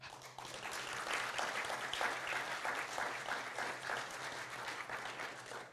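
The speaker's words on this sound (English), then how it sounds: "we have now the pleasure of welcoming Hashim Sarkis with a round of applause." A lecture audience applauding to welcome a speaker, dense steady clapping sustained for several seconds before fading slightly at the end.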